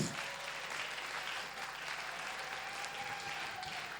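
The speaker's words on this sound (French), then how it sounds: "Est-ce qu'on peut acclamer pour l'arrivée de notre Père?" A church congregation applauds the arrival of the Father with a steady, dense wash of clapping from many hands. The applause is even and sustained, fairly soft and somewhat distant.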